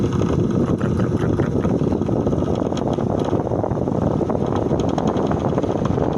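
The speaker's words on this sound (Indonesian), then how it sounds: "Ini bunyi dari dinamonya yang tidak stabil," A loud, rough Tanzu power tool motor drones without pause, a broad grinding roar that wavers and rattles unevenly throughout from its unstable, noisy dynamo.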